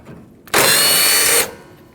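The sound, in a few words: removing a 12 millimeter bolt on Nissan NV2500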